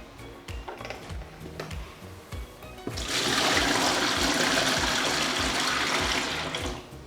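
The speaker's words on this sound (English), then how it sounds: "Make sure you fill the bathtub with just a few inches of warm water." Warm water pours into a baby bathtub, a steady rushing gush that starts loud midway after a quieter stretch of knocking and trickling, then tapers slightly at the end.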